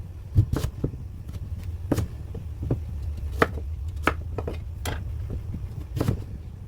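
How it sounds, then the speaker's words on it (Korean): A knife chops sweet potato into cubes rhythmically on a cutting board, sharp irregular thuds repeating close by over a low background hum, with no talking. "십자로 잘라서 각지게 썰어주면 됩니다."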